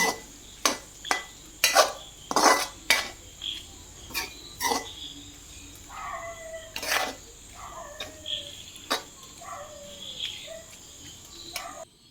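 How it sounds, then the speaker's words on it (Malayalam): Pork fry being stirred with curry leaves in a pan, giving a series of sharp metallic scrapes and clinks of a spoon against the pan in an irregular rhythm, close and fairly quiet, with soft sizzling between strokes. "അപ്പോൾ കുറച്ച് കറിവേപ്പിലയും കൂടി ചേർത്ത് നമ്മൾ ഒന്നും കൂടി നല്ല രീതിയിൽ ഇളക്കി മിക്സ് ചെയ്യുക"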